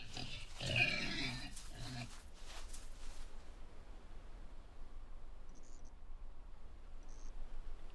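A pig grunts and squeals in the Paranormal P.I. video game, a loud, close burst at the start that fades into quiet, low background noise.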